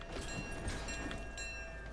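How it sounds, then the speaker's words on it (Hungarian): Train in the Fortnite video game rolling along steadily, a continuous mid-level rumble with faint rail clatter and no talking. "ugorjunk fel a vonatra"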